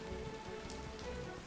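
Steady in-game rain patters continuously in the video game Swords 'n' Magic and Stuff, a soft, even wash of falling drops with no voices.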